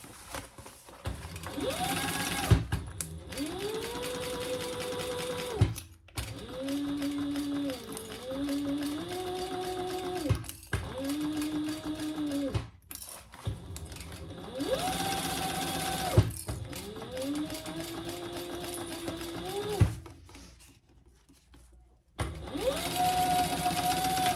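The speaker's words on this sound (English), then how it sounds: "So we're just sewing the base to the back." A sewing machine stitches the base of a crossbody bag to its back panel in several bursts of steady, whirring runs. Short pauses separate the runs, and the motor tone rises and falls at each start and stop.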